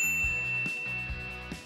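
A bright notification-bell ding sound effect rings out clearly and sustains, set over low background music with repeating bass notes.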